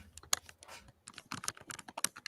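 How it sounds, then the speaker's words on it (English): Someone types on a computer keyboard, with rapid irregular clicking keystrokes, close and fairly clear, and no speech over them. "Would you stop typing, Draven?"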